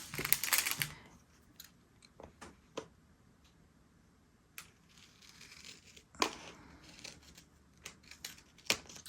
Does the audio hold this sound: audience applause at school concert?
no